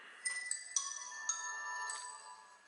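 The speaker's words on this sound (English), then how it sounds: "The nostalgic Nokia ringtone." A Nokia ringtone on a Nokia Asha 308 phone plays a short, bright melodic tune of several tonal notes, clear and close, with nothing else around it.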